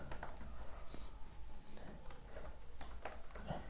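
Keys clatter on a computer keyboard as code is typed, a quiet, close, irregular run of light taps and clicks without talk.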